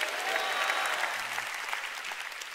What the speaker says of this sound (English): You want to clap, give the Lord a big clap.